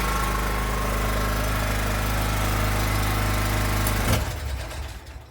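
Small engine runs in a steady, loud, buzzing chug, then sputters and dies away as if starved of choke, leaving a fading rumble.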